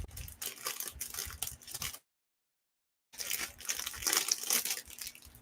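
A plastic LEGO parts bag crinkles and rustles close up as it is pulled and torn open, with a brief quiet pause before more crackling handling.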